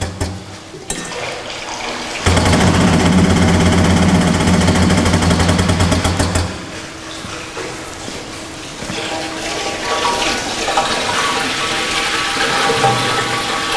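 Liquid gushes out of a 200 litre drum tipped by a pneumatic fixed-band drum rotator, a loud rushing pour that drops to a lighter, uneven splashing trickle.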